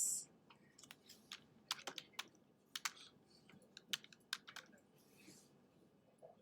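Typing on a computer keyboard to enter a stock-image search, heard as quiet, irregular bursts of clicking keystrokes close to the microphone with short pauses between runs.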